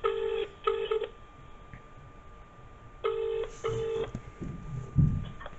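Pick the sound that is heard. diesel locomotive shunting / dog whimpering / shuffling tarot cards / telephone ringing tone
telephone ringing tone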